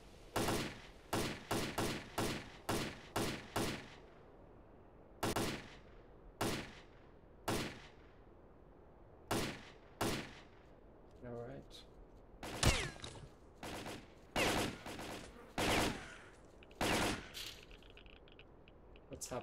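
Gunfire in the video game S.T.A.L.K.E.R.: Call of Pripyat comes as loud, sharp single shots and quick bursts in an irregular rhythm throughout, with brief pauses between volleys and a short voice heard between shots.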